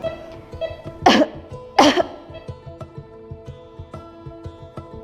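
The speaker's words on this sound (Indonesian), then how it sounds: "Kita batuk 2 kali, tapi yang terakhir adalah dengan penekanan." Two sharp, deliberate coughs from a physiotherapy cough exercise, about a second apart, close by, the second slightly stronger and emphasized, over a quiet background with faint clicks and hum.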